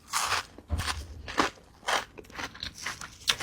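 Fried crispy kremesan snack is crunched close to the mouth in about six sharp, crackly bites, each separated by a short pause.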